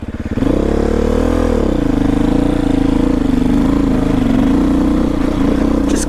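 A Beta 500RR-S dirt bike ridden on a forest road gives a loud, close, continuous engine drone, its pitch climbing briefly and then settling into a steady, throbbing chug with no talk.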